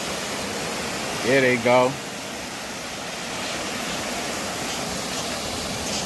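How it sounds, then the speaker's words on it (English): A waterfall in an urban Philadelphia neighborhood gives a steady rushing hiss throughout, while someone briefly speaks near the start. "I found that waterfall though."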